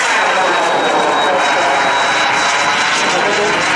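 A model Mirage 2000 jet performs a high angle-of-attack solo display, its engine roaring as a loud, steady broadband rush with a thin high whine throughout.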